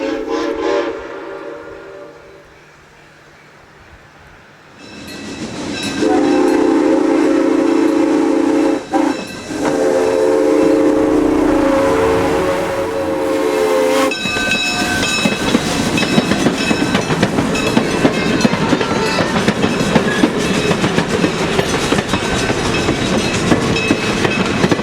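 A steam locomotive at the Niles Canyon Railway backs out of a siding onto the main line, its whistle sounding in long harmonic blasts over a steady rumble of moving cars and chuffing that grows louder and busier.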